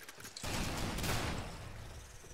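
A short burst of gunfire in Killing Floor, a sudden loud blast of rapid shots with a lingering rumbling tail, alone without talk.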